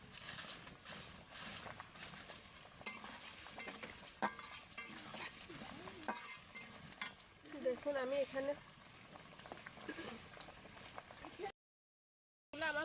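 Potatoes and spinach fry in a pan while being stirred, a steady sizzle broken by scraping and clinking of the spoon. A person speaks briefly over it, and the sound cuts out for about a second near the end.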